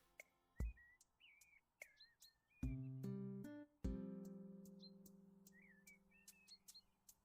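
Birdsong in a video game with a house being renovated: repeated bright chirps and short whistled calls, moderately close, with several sharp knocks or thuds and ringing tones mid-way, no talk.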